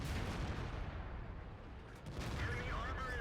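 Tank cannon fire in a video tank battle involving a T-44 against a Tiger and an IS-3, heard as dense, sustained booming rumble under a voice.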